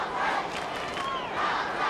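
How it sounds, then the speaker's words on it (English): Carlton supporters roar and cheer for the Blues at a 2003 Australian football match against the Kangaroos, a dense, sustained crowd swell with no voices standing out. "Great to hear the Carlton fans. Cheer goes up for the Blues."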